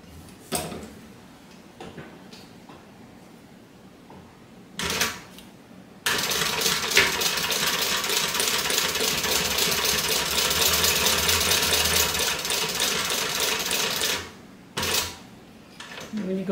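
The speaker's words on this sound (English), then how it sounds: "we are going to sew about a quarter of an inch in from this line all the way around." A domestic sewing machine stitches around a fabric backpack, running as one continuous loud whir for about eight seconds, with short bursts of handling and clicks before and after.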